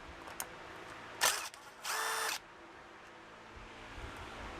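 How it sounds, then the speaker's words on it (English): An impact driver loosening splined fittings on a VEVOR 1100 lb electric chain hoist, two short bursts of whirring, the second a steady half-second run, against a quiet background. "This is a perfect time for an impact device to loosen those."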